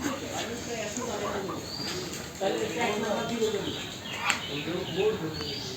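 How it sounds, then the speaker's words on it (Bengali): A pigeon perched up high, heard outdoors on a road with soft cooing calls under steady background noise and nearby people talking. "একটা কবুতর ওই উপরে।"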